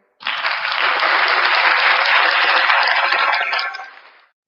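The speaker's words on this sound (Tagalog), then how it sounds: "Ang ingay nung palakpak." Applause played into an online English lesson, a loud bright burst of clapping that starts abruptly, holds steady for about four seconds and then fades out, sounding slightly compressed and tinny.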